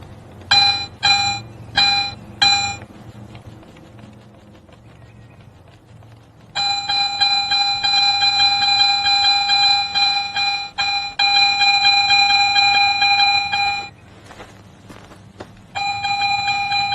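A Garrett metal detector sweeping over a buried target gives a few short, sharp beeps, then long sustained electronic tones that cut out briefly and resume, loud and close.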